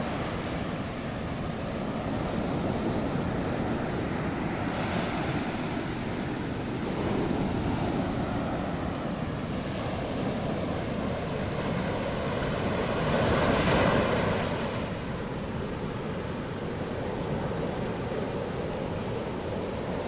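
Ocean waves wash onto the shore along the La Union coast, a continuous broad roar of surf with gentle swells in loudness, mixed with wind buffeting the microphone and no talking.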